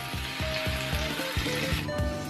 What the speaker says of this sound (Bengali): একটু নেড়ে চেড়ে হালকা ভেজে এবার বাটা মশলাগুলো দিয়ে দিচ্ছি।